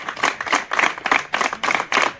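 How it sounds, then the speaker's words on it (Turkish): Rhythmic group clapping in steady pulsing bursts from protesters gathered outside a courthouse, close and fairly loud, with no talking. "Uzun süre alkış çaldı."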